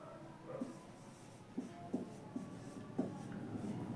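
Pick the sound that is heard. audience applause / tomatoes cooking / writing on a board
writing on a board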